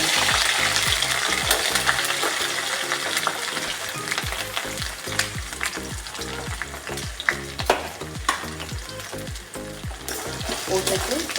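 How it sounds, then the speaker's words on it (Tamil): Onion and garlic sautéing in oil after fenugreek seeds for vatha kuzhambu: a steady close sizzle with rhythmic scraping of a spoon stirring in the pan, and no talking. "நல்லா வதக்கிக்கணும். வெங்காயமும் பூண்டும் இந்த அளவுக்கு வதங்கி"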